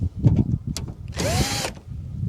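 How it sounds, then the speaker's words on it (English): A power drill whirs briefly in a short burst while fitting running/blinker lights on a truck, its motor pitch rising and falling, surrounded by some handling knocks. "remembered I had this power drill out here."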